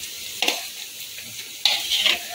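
Onions and chopped green chillies are stirred in a frying pan, with two distinct scraping strokes over a faint, steady sizzle, heard close up and alone.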